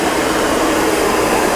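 A hair dryer used with a flat brush to wrap-dry thick curly hair straight gives a loud, steady, unbroken blowing roar, close by, with no talking.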